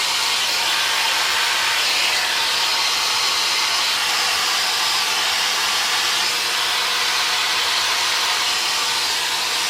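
Hair dryer fitted with a diffuser drying curly hair at the roots and crown, a steady close airy roar running loud and unbroken throughout with no talking.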